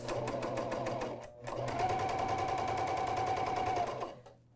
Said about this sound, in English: this machine does not require a leader when you sew off